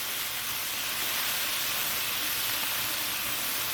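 Bitter melon (karela) and dried shrimp sautéing in a pan give a steady, close hiss of frying that runs unbroken from start to finish, with no voices over it.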